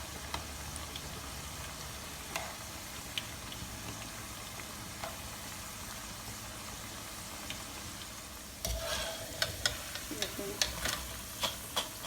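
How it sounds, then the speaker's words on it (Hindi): Pakoras for kadhi frying in oil over medium heat and being turned: a faint steady sizzle for several seconds, then a louder patch of close clinks and scrapes as they are flipped, with crackling continuing. "3-4 मिनट हो गए फ्राई करते हैं, अब इनकी साइड टर्न कर देंगे।"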